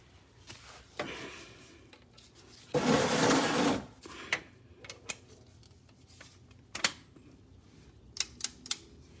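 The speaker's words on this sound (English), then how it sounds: "That's the click right there. That means it's 29 foot-pound." A torque wrench set low, to 29 foot-pounds, clicks while servicing a Honda Civic Si transmission: faint, sharp single clicks scattered through quiet workshop noise, with one brief louder rasping burst.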